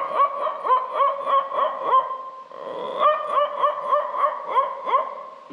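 A man imitates a dog barking from far away, voicing a steady series of rhythmic yelping barks and yips with a brief pause midway, clear and close with no other sound.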